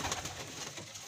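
Domestic pigeons cooing on a rooftop, soft rhythmic coos blended with outdoor ambience, faint and continuous with no talk.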